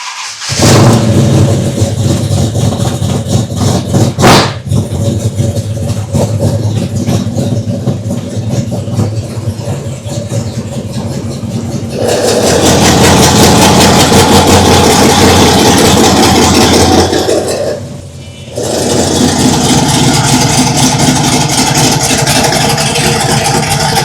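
A classic Ford Escort with a switchable open-pipe exhaust fires up and runs loud and close, settling into a rough idle before a sustained harder rev, a brief dip, then more throaty running.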